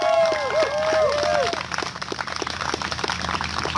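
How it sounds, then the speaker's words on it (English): Crowd at an outdoor Liberty or Death political rally applauding veterans, scattered clapping and some cheering building up, while a tonal whistle or feedback warble sweeps across the start. "Let's give them a round of applause as well."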